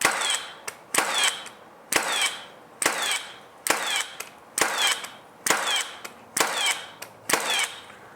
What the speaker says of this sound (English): when I do that bump fire, I just want to see if the nail gun can keep up